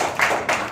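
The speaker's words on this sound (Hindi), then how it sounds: "बजाइए तालियां।" Children in a primary school classroom clapping, two short bursts of hand claps in quick succession, close and fairly loud.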